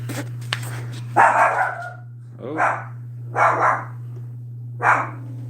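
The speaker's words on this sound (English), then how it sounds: "Something set my dog off." A dog barks four times in spaced, uneven bursts at moderate distance, over a steady electrical hum, with a brief spoken exclamation at the start.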